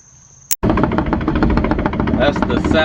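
A car or truck driving to a homeowner's house, its engine and road rumble steady and fairly loud after a brief sharp click, continuing without a break.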